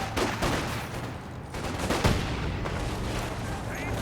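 Artillery barrage and gunfire in the World War II strategy game Company of Heroes 2 crackle and boom in rapid bursts at moderate loudness, dense overlapping shots and blasts throughout.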